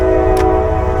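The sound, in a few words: passing train horn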